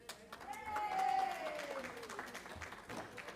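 A spiritual gathering audience claps and applauds in a room, moderately loud and continuous, while a voice rises and falls briefly over the clapping.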